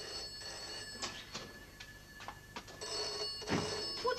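Faint telephone ringing in a home sitcom scene, a thin electronic bell tone persisting quietly beneath low room noise and scattered soft clatter, with no talk.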